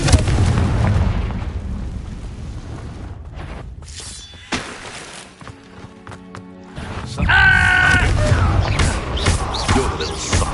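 Confringo blasting spell going off in the game Hogwarts Legacy, a loud booming burst amid busy battle noise, with a second bright crackling blast near the end and brief pauses of quieter sound between.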